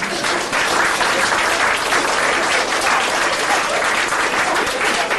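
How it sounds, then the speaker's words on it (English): Dense, steady audience applause from a comedy hypnotist stage show crowd, loud and sustained throughout with no break. "can we have a round of applause for them"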